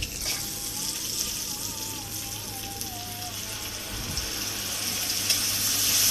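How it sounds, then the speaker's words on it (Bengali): Noodle spice mix frying in a wok gives a steady, close hiss of sizzling with a faint thin whine over it. The sound runs evenly throughout, with no talking. "ভালো করে নেড়ে চেড়ে কষিয়ে নেব।"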